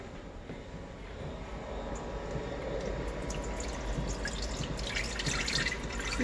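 Steamed muscadine juice pouring from a jar into a pan on a stove, a steady liquid splash that grows slightly fuller as it goes, with no talk.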